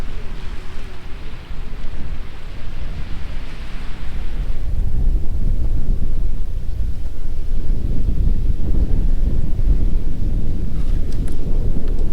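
Strong wind buffets the microphone in a loud, continuous rumble with gusty swells throughout, at Cooper Point on the Coburg Peninsula, Garig National Park.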